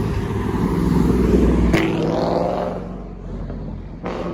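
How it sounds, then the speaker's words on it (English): A loud convertible car engine roars close by and then fades as it passes, a brief high whoosh in the middle and steady road noise after. "The engine of that convertible jumped me."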